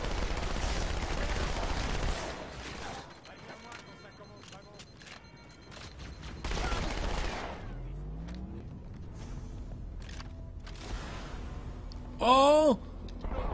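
Rapid gunfire from a weapon in the video game Halo 2 comes in loud bursts of shots, mixed with other busy game effects and whooshing sweeps between volleys.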